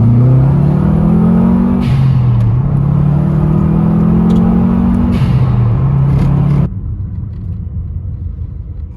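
Subaru engine revving hard with a steady low drone and rising, falling pitch as the car struggles to climb onto a home driveway, loud and close for about seven seconds before dropping to a quieter idle.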